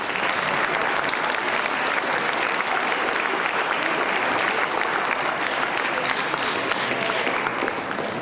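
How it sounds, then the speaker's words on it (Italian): An audience at a talk on wellness and sport bursts into sustained applause, a full and dense roar of clapping that holds at a constant high level for several seconds before easing slightly at the end. "Vi ringrazio per questo applauso"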